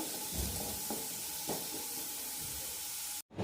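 Kohlrabi is sautéed in a pan for sambar, a quiet, steady sizzle with a few soft stirring scrapes, cut off briefly near the end.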